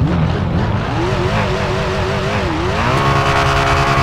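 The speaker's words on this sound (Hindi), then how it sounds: "अब सुनो इसकी एग्जॉस्ट की आवाज़ एक बार।" A car engine and exhaust rev in the GTA V video game, loud and close, the pitch rising and falling in waves before settling into a steady higher drone; no talk.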